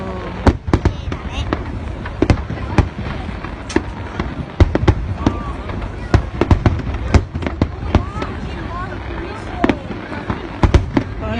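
A Japanese fireworks festival display in Oyama City goes off non-stop, with rapid irregular bangs and crackles at close to middle distance. People talk and react throughout.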